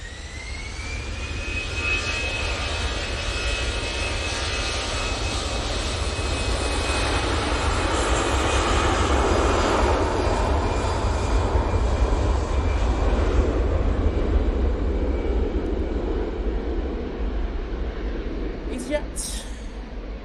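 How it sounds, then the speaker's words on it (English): An EasyJet Airbus A320ceo jet at Manchester Airport roars loudly and steadily for about twenty seconds, swelling toward the middle as it passes, with a voice speaking briefly near the end. "A320 CEO off to Barcelona now."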